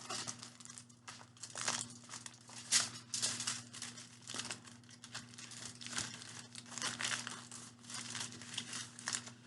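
A sheet of paper is folded at each corner to form a toy cookie baking pan, giving close, steady crinkling and rustling handling sounds with brief louder crackles and no talking.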